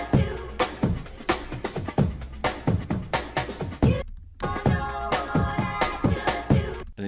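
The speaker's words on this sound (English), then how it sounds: "One cool thing you can do with like breakbeats as well is like chop them up." A punchy breakbeat drum loop chopped into pieces, with steady hits interrupted by two abrupt cuts of silence.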